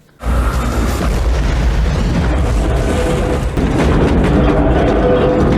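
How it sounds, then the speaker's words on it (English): A torpedo explosion in a submarine film: a sudden heavy boom erupts and rolls on as a sustained, loud, rumbling roar that doesn't fade. "The explosion impact?"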